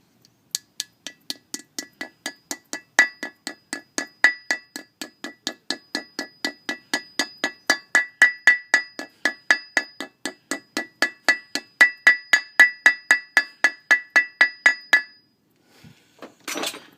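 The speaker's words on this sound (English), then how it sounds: "I'm just going to take a hammer and tap it in the rest of the way." A hammer taps a brake bearing into place against the rotor, a long, steady series of sharp metallic ringing strikes that grow louder and brighter, then stop, followed by a couple of faint knocks.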